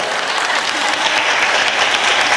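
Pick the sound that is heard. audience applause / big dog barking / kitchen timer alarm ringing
audience applause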